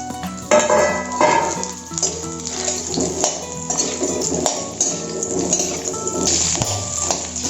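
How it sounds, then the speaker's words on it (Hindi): Stuffed eggplants fry in hot oil in a large kadhai, giving a dense, loud, continuous sizzle with occasional clinks of a utensil against the pan, and no talking. "मैं थोड़ा तेल गरम होने के बाद ये जो बैगन भर के रखे हमने, इसको फ्राई करेंगे।"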